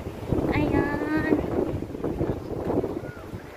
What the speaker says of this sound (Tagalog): Grabe ang hangin dito.